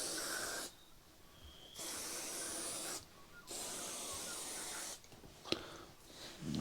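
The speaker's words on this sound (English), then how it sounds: "So when you spray, you sort of spray at an angle so it goes up inside the neck as well." Three bursts of short aerosol spraying of case lube onto ammunition cartridge cases, each a steady hiss lasting about a second, separated by brief pauses, close and fairly quiet.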